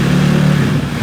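A motorcycle engine running loud and close, holding a steady mid-pitched drone through gear shifts, with a slight dip near the end, no talking.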